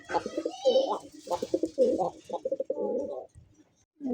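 A male pigeon coos repeatedly in close, throaty bursts with short pauses between, ending after a brief silence with one more coo.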